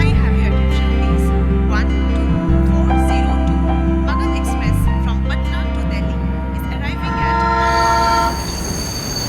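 A train pulls into a railway station with a loud, sustained horn and heavy rumbling rail noise throughout, the horn tones holding steady before the clatter of wagons takes over near the end.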